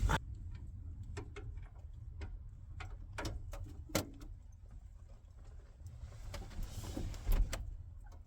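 A wood stove chimney ticks and knocks in scattered sharp clicks, some in quick clusters, over a low steady rumble of the burning fire, with no one speaking.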